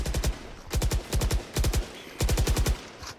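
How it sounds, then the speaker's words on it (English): Loud, close bursts of automatic gunfire in the tactical shooter Valorant, four rapid rattling volleys separated by short pauses, with no talk over them. "He was hearing some gunshots coming out"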